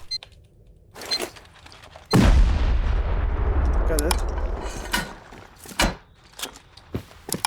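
Rocket launches and blasts during a Rust base raid: a sharp heavy explosion hits loud and near, rumbling on for several seconds, framed by scattered thuds and impacts before and after.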